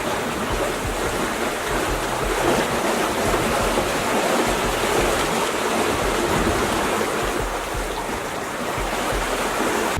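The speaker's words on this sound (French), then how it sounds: "Le son de l'eau" Rushing water and waves wash around a sailboat running downwind in a 10 to 15 knot breeze along the Gaspé coast, a steady, loud, broadband hiss with wind noise and no voices.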